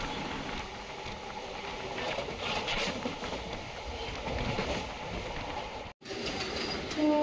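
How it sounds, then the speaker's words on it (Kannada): Vande Bharat Express bound from Kalaburagi to SMVT Bengaluru crossing on an adjacent track: a loud, steady broadband rail roar that continues unbroken, cut by one abrupt momentary dropout before resuming, with no voices. "ಕಲಬುರಗಿಯಿಂದ SMVT ಬೆಂಗಳೂರಿಗೆ ಹೋಗೋ ವಂದೇ ಭಾರತ್ ಎಕ್ಸ್ಪ್ರೆಸ್ ಕ್ರಾಸಿಂಗ್ ಆಯಿತು"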